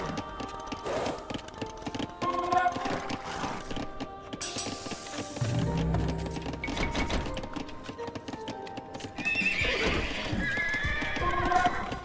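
Lu Bu's steed Red Hair neighs in a video game, with several whinnies spaced across the stretch, clip-clopping hooves and quiet game sounds between them.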